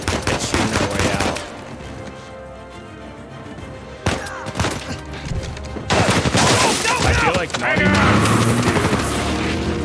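Shootout in the action game Uncharted 4: A Thief's End, with dense overlapping gunshots and heavy bursts of fire rising and falling, loud and continuous, while someone talks over much of it.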